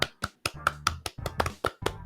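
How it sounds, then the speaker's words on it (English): Hands clapping in a brisk run of about nine sharp, close slaps over two seconds, slightly uneven in rhythm, with no talk over them. "Let's give them a clap, Jamal."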